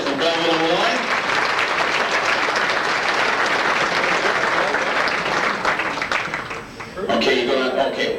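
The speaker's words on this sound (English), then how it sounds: "give him a nice round of applause" A large banquet audience at an auto racing fan club event breaks into loud, sustained applause, dense clapping filling the room and then tapering briefly before swelling again near the end.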